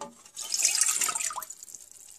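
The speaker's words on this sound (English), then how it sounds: "In a saucepan, add the dashi stock." Dashi stock splashes into a saucepan for a Japanese gyudon beef bowl, a short close pour of liquid that swells then tapers to drips.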